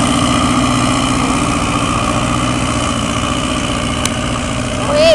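A diesel tractor engine at a fairground tractor pull rumbles steadily with a low, continuous drone, loud and close throughout, rising slightly near the end; there is no other sound of note.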